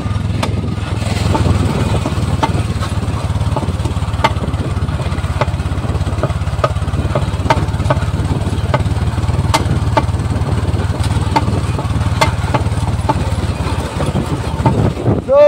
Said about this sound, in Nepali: यो चाहिँ अटोमेटिक मिसफायर है अटोमेटिक मिसफायर हानिदिन्छ यो बाइकले